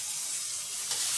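Vegetables, carrots among them, sauté in a pan with a soft, steady sizzle that stays close and fairly quiet through a brief moment.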